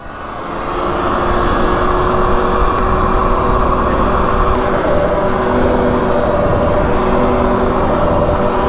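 An electric quad bike runs at full throttle in its highest power mode, giving a steady, loud motor whine with rising tonal bands that holds continuously after a quick start.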